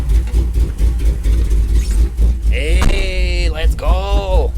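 A 1997 Dodge RAM 1500 pickup with a swapped 5.7 HEMI engine pulls forward, giving a steady, loud, low rumble throughout. Someone speaks over the engine near the end.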